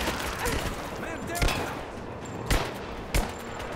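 Gunfire in the video game Rise of the Tomb Raider crackles as three sharp shots stand out above a dense, noisy battle bed, with voices talking over the action.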